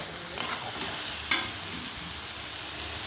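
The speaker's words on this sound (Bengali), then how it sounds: "এবার মশলাটাকে আমি ভালোভাবে কষিয়ে নেব" Spices sizzle and are stirred in hot oil: chilli, turmeric and cumin powders with ginger-garlic paste, fried for a Bengali chicken kosha. A steady close hiss runs throughout, with a few scraping stirs and one sharp spatter near the middle.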